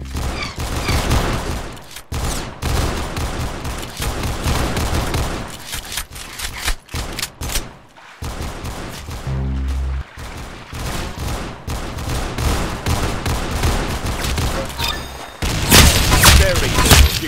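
Gunfire in a shooting video game comes in dense bursts and booming shots throughout, loud and close, with short gaps and rapid volleys mixed with game effects.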